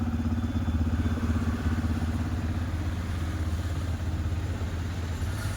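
A vehicle engine holds steady at about 2000 rpm, a loud, continuous low drone with a faint mechanical clatter running throughout, with no voices over it.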